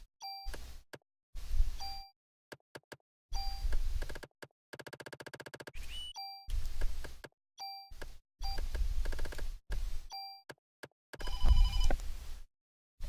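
A telephone rings in the video game Parasite Eve, repeated electronic ring bursts separated by short silences across the whole stretch, mixed with game beeps and tones, with no talking.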